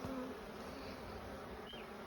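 Honey bees buzz around an open hive during a spring inspection, a soft continuous drone with a few individual bees passing nearer, faint and steady with no talking.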